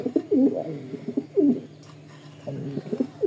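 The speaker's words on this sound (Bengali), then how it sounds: "এত সুন্দর কবুতর" Racing pigeons coo in a series of soft, throaty, rolling calls that come in several close bursts with short pauses, near and fairly loud, with no talk.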